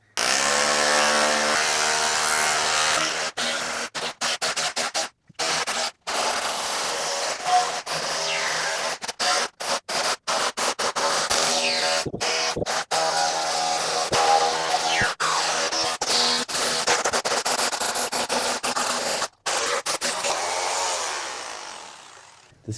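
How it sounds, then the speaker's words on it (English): Hammer drill cutting into old concrete inside an offshore lighthouse, a loud continuous grinding and rattling drone broken by brief stops and restarts, close and harsh throughout. "I'm gonna get a hammer drill and start cutting into the concrete."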